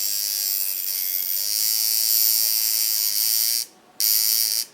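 A tattoo machine with a short in its contacts buzzes steadily and loudly at close range, cutting out abruptly for a moment near the end before resuming, then stopping.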